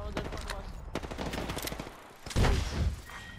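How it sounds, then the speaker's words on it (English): Bursts of automatic gunfire in the Apex Legends video game, rapid volleys and single cracks at varying distance, with a player's voice briefly heard over the shooting. "Taking fire."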